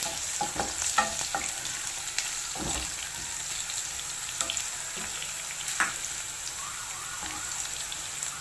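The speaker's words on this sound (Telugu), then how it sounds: "చిన్న సైజు 4 ఎండుమిర్చి. మరీ బ్రౌన్ వేయించుకోవద్దు." Dried red chillies frying in hot oil for a tomato dish give a steady close sizzle, with occasional stirring clicks and soft pops throughout.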